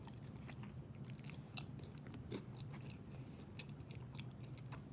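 Chewing a homemade tortilla pizza topped with pepperoni, onions and cheese, cooked in an air fryer: quiet, close wet bites and crunches repeating steadily, with no talk.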